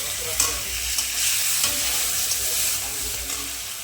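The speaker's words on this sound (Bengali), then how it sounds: "এখন দিয়ে দিব জিরে ফোড়ন, এখন দিয়ে দিচ্ছি টমেটো" Cumin seeds and tomatoes frying in hot oil for a fish curry, a close, continuous crackling sizzle with a few stirring scrapes, no voices.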